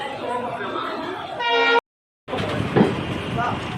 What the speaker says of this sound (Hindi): 1A से डिपार्चर लेती हुई हरिद्वार जन शताब्दी 12:54